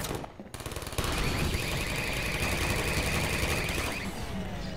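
Automated turrets in the Half-Life 2 video game fire in a sustained burst of rapid gunfire, loud and dense, running for several seconds after a brief quieter lead-in, with no talk over it.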